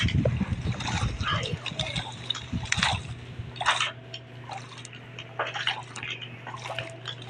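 Water splashes and drips as a character bathes in a Minecraft game, scattered wet bursts and gurgles of moderate loudness over a low steady hum.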